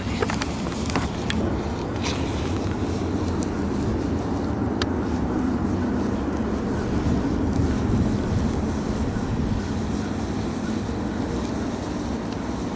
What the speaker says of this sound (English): It was also very windy the day I performed this one